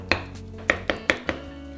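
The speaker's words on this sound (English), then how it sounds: "a big wooden spoon or a metal spoon works great for just smashing and chopping up those bananas" A big wooden spoon smashes and chops ripe bananas in a bowl, giving five sharp, uneven knocks with soft squishy pauses between, close and clear with no voices.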